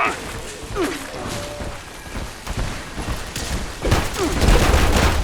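Dense, rapid gunfire crackles through a Fallout 76 firefight at Harper's Ferry, a steady barrage of overlapping shots with occasional louder bursts and a player's voice over the combat.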